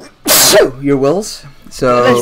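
A single sharp, loud sneeze up close, quickly followed by people talking at a tabletop game session.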